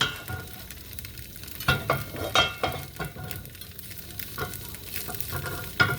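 Vietnamese pancake batter fries in a hot pan, a soft continuous sizzle broken by several sharper crackling bursts and clinks of a utensil, fairly quiet and without talk.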